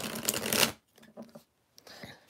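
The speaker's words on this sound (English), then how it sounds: "I'm actually terrible at shuffling." A deck of tarot cards being shuffled by hand: a brisk riffling burst up front, then a few soft, quieter card taps and slides after a short pause.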